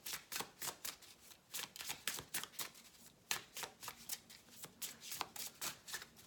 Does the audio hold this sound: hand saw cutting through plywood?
no